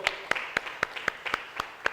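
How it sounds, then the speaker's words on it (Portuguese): A church congregation clapping in unison, with eight evenly spaced, sharp claps at a steady rhythm, moderately loud and with no talk over them. "Vamos dar um louvor de palmas ao Senhor."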